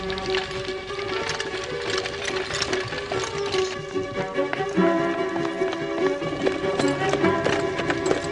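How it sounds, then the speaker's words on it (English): Rapid clip-clop of a running horse in a tense Victorian-era chase scene, a steady close rhythm of hooves over a busy bed of music and rolling noise. "Stop that horse."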